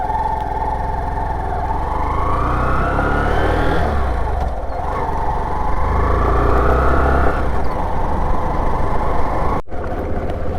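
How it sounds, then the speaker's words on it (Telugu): A motorcycle on a road trip runs close by with a steady mid-pitched engine drone that climbs and swells as it pulls away and gathers speed, then cuts off sharply near the end; no one speaks. "బైక్ స్టార్ట్ చేసినా ఇంక వెళ్దాము"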